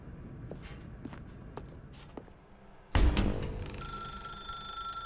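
A telephone in The Stanley Parable video game starts ringing abruptly after a few soft footsteps, its bright electronic ring loud and continuous against a quiet room.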